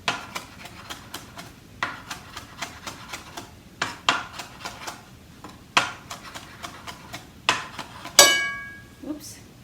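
Knife chopping on a cutting board while preparing mango bruschetta, a run of quick irregular taps and thuds with a few sharper clinks near the end, with talking through it.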